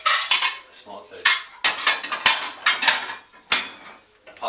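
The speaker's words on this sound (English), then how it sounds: "Pots and pans can be easily removed. The cutlery basket can be fully removed" Pots, pans and the cutlery basket being lifted out of an Electrolux ESL 6225 dishwasher, heard as a near-continuous run of close metallic clatter, rattling cutlery and clanking cookware, with no talk.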